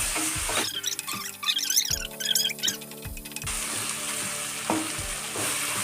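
Ginger garlic paste fries with vegetables in a pot for sweet corn biryani, a continuous close sizzle with bursts of spatula scraping and a few squeaky metallic clinks, no voices.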